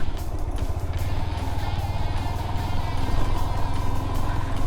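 A motorcycle ridden over a rough road and bridge near Guliakhali Sea Beach in Sitakunda, Bangladesh, its engine thrumming steadily with bumpy rattles and wind noise, close and continuous throughout.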